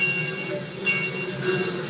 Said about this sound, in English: The engine that's pulling these coaches was built in 1897 for a sugar plantation in Louisiana.